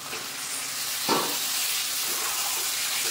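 Marinated mutton drops into spice paste frying in oil, giving a steady close sizzle with a brighter hissing burst as the meat lands, then continuing crackle and stirring.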